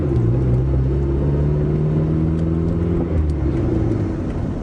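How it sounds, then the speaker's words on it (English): A Geet-equipped engine in a vehicle pulling in third gear as the throttle is pressed, a steady loud rumbling drone with harmonic tones slowly rising, continuous and close with no speech. "That's third gear, and as I start pushing it down, it starts to accelerate."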